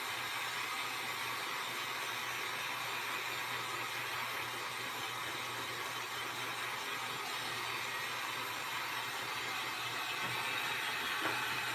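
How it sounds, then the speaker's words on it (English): A steady, loud blowing hiss of a heat gun drying craft ink runs without pause, a constant airy roar with a faint low hum beneath it. "I'm going to hit this again with the dryer."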